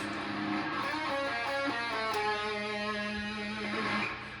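Guitar playing a short pentatonic lick, a handful of sustained, slightly distorted notes ringing out alone and fading at the end.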